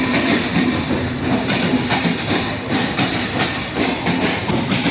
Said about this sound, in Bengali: এই যে আমাদের ট্রেন চলে এসেছে সীমান্ত এক্সপ্রেস